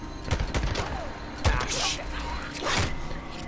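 Gunfire in the video game Days Gone sounds as a few sharp shots spaced about a second apart over a busy game background, with a voice talking beneath.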